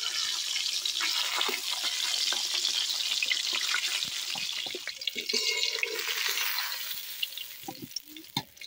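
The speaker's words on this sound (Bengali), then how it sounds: "মাছগুলোকে কিন্তু আমি বেশি কড়া করে ভাজবো না, একটু হালকা করেই ভাজবো" Pieces of snakehead (shol) fish fry lightly in a pan of hot oil, giving a steady, dense sizzle with scattered crackles and pops. Toward the end the sizzle thins and eases, and no one speaks.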